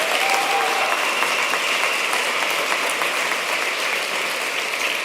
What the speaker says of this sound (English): Just get a quick round of applause for Felicia and Marcus for putting this together.